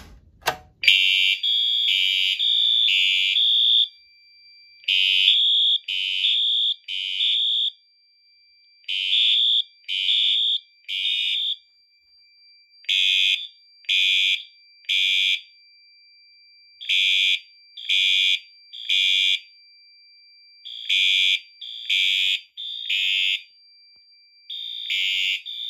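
A Pyrotronics pull station sets off a fire alarm system in a test, loud electronic horn blasts repeating in steady rhythmic groups of short pulses with brief pauses between, close and alone after an initial click.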